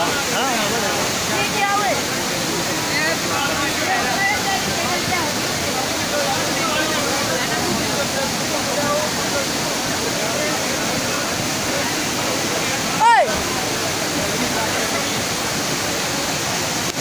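Flooded river rushing through Sewa tehsil in Bani, Kathua district, a dense continuous roar of churning water with no letup, one brief knock near the end.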